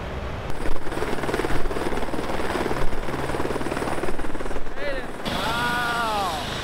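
A helicopter carrying surfers out to Teahupo'o in Tahiti, heard from on board as a loud continuous rotor thump and engine roar, with a shifting whine near the end.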